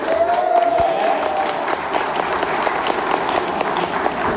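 An audience at Maker Faire applauds loudly and steadily, many hands clapping in a continuous wash, with crowd noise and a faint tone in the background.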